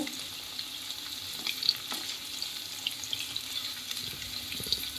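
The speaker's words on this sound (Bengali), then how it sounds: "এইভাবে আমি সবকটা পনির ভেজে হালকা ভেজে আমি তুলে নেব" Paneer pieces lightly frying in a pan give a soft, continuous sizzle with faint ticks and a few scraping touches, quiet and steady with no voices.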